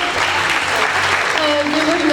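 A crowd at an evening festival-queen election in Hagetmau claps and cheers loudly for a contestant, dense sustained applause with voices mixed in.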